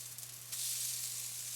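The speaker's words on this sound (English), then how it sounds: "fry the other side until pork becomes crispy, about another 5 minutes" Okonomiyaki with pork belly sizzles on a hot griddle as a steady, bright crackle that grows louder and fuller about halfway through, with a low hum underneath and no talking.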